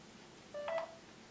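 Telephone keypad tones sound as a voicemail password is entered: a short cluster of two or three quick, clear beeps against a quiet line hiss, all within about half a second.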